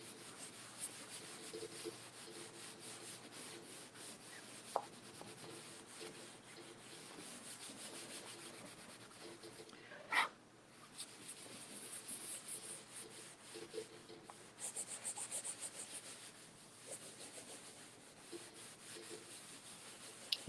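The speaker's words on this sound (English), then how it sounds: "I'm going to take my, my finishing paste wax and I'm going to wax my surface" Finishing paste wax is rubbed onto the surface of a wooden Santa tray with a cloth, giving a soft, continuous close-up scrubbing and rubbing sound with small bumps and knocks along the way.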